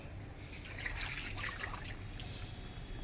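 Potato wafer slices being rinsed in water make a steady trickling, sloshing wash, fairly close and continuous, with no talking.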